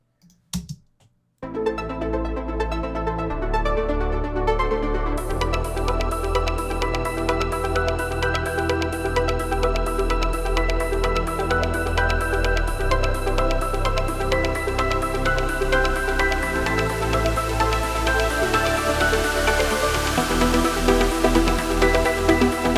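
A progressive trance track plays back in a music production session, with a few sparse hits at first before a dense, steady synth arrangement builds in and continues to the end.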